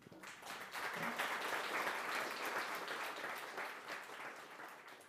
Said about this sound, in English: They clapped anyway